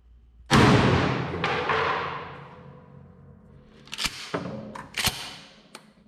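Shotgun firing buckshot into a ballistic gel block: one loud, close blast with a long rumbling decay, then a few sharper cracks and thuds a few seconds later.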